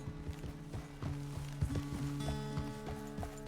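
Horse hooves in Red Dead Redemption 2 thud in an irregular walking clip-clop, soft and mid-distance beneath sustained musical tones.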